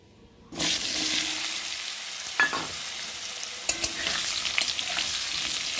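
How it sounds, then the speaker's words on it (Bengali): Cumin fries in hot oil, then potatoes are dropped in with a sudden loud burst of sizzling. The frying carries on close and steady, broken by a few sharp scrapes and clinks of stirring. "তো দেখো জিরেটা ভাজা ভাজা হয়ে গেছে, আর এখন আমি আলুগুলো দিয়ে দেবো।"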